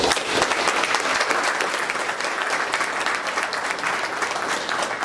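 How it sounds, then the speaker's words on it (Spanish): Crowd applause at a commemorative political rally, loud sustained clapping from many hands filling the space evenly and continuing without a break or any talk. "Un aplauso para ti."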